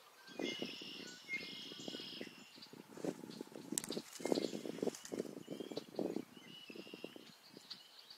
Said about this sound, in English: Hear all the birds, huh? Those are red-winged blackbirds.